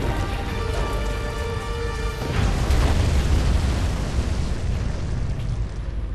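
As Earth is destroyed in Advent Rising, a vast rumbling explosion swells and roars. A tonal hum fades into the blast, which then holds as a loud, sustained, crackling roar.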